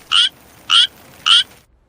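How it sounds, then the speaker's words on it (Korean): Three high-pitched, evenly spaced frog calls ring out close and loud, each a short bright trill, with quiet background between them. "일반 청개구리와 생김새는 비슷하지만 울음소리가 일반 청개구리보다 고음입니다"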